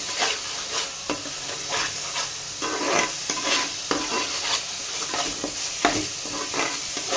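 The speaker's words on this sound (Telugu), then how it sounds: "ఆయిల్ సపరేట్ అయ్యేదాకా ఇలా ఫ్రై చేయాలి." Onion paste and masala fry in oil for a mutton bones curry, giving a steady close sizzle with repeated stirring scrapes in the pan and no talking.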